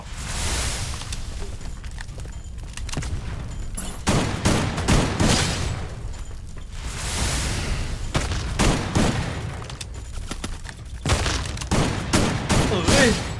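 Dense gunfire in the video game Free Fire, rapid overlapping bursts and shots rolling on almost without pause, loud and close, with a brief swell of heavier fire near the middle.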